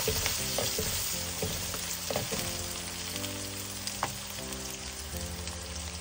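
Coriander fries in hot oil for a vegan soya chukka dish, a steady close sizzle with occasional stirring scrapes and clinks, no voices.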